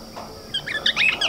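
Wild birds in the Australian outback give bright chirps and tweets in a quick cluster of repeated calls, close and clear over a quiet background.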